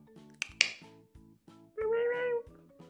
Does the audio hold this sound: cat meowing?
yes